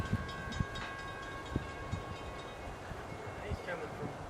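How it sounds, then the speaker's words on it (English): A southbound freight train rolls through Folkston on the Nahunta sub, a steady rumble with rhythmic wheel clicks over rail joints at moderate distance and a faint tonal whine. "the train screams through town"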